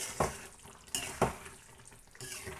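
A spoon stirring stuffed eggplant masala curry in a pan, with soft scraping strokes and clinks against the metal at a steady pace over a quiet sizzle, close and fairly faint.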